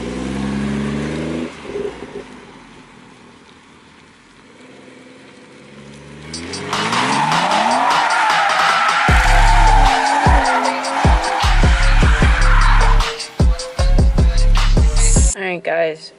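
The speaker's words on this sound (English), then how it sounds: "I was trying to do some donuts" A tuned BMW 440i with a B58 engine does donuts, the engine revving and climbing before the tires break into loud, sustained squealing with repeated surges and rough bursts, close and dominant.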